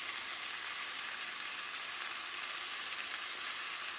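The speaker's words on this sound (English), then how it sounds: "I'm gonna just keep stirring, make sure everything combines together" Vegetable rice with carrots, corn, green beans, sweet peppers and red onion frying in a pan, giving a steady, close hiss and sizzle with no talking.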